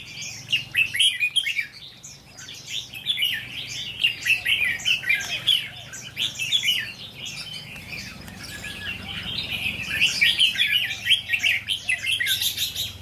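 Decoy songbirds calling aggressively outdoors: rapid, bright chirps and trills come in dense bursts, close and loud, with a low background hum and no talking.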